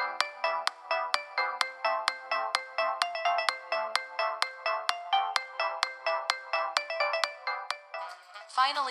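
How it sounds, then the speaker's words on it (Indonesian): Music plays through the speaker of a white Samsung Galaxy A11 phone: a thin, bright melody of evenly repeated plucked notes with no bass, fairly quiet. "Untuk hasil suara speakernya kita akan langsung coba dan kalian bisa dengarkan di video berikut ini."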